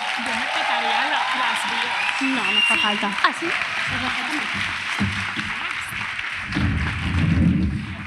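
Studio audience applauding for two arriving guests, a soft patter of clapping behind conversation, with a thump midway and a fuller burst of applause near the end.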